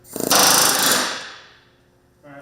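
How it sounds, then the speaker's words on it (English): A short, loud burst of drill noise drilling out a rivet in a sheet metal shop, rattling then whirring down over a second or two, followed by a brief clatter. "We drill the rivet out, put a new one in"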